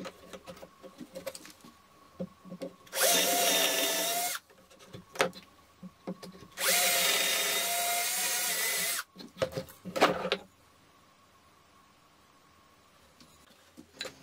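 Two long bursts of a power drill boring holes into the wooden end pieces of a roller slide, a few seconds each, with short rattles and handling clatter between them, then quiet.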